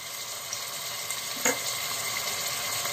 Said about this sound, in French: Donc là, tu fais dorer ta viande un petit peu de tous les côtés